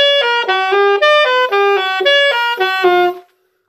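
A bebop jazz lick played slowly on a melodic instrument: a clear run of about a dozen distinct, evenly spaced notes rising and falling, close and loud, ending on a held tone before silence.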